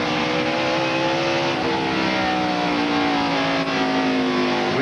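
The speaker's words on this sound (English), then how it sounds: "We can hear him back off the throttle now." A 1996 NASCAR Winston Cup stock car at the Bud at the Glen race backs off the throttle, its loud, steady engine roar easing as the pitch sags, with no talk over it.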